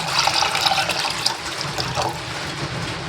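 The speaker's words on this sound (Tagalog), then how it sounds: "So ilagay na natin yung 5 cups na tubig." Five cups of water poured into a saucepan make a steady splashing gush, close and fairly loud, continuing without a break for a few seconds.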